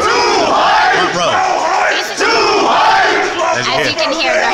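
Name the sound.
crowd cheering at E3 event stage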